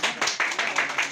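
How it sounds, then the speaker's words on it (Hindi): Applause from a crowd at a press club election gathering in Ajmer, heard as a brief burst of clapping in uneven bursts, fairly close and loud. "आज ये देखो रमेश जी के जीतने की खुशी से ज्यादा तालियां तो इनके ऊपर बज रही है"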